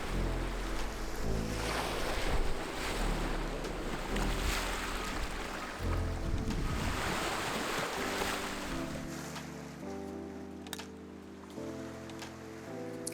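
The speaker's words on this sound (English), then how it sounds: "I wanted to photograph the water hitting the rocks." Water washing against rocks along a shoreline, a steady broad roar of surf with low rumbling swells, heard alongside a droning tonal hum that shifts pitch throughout, with no voices present.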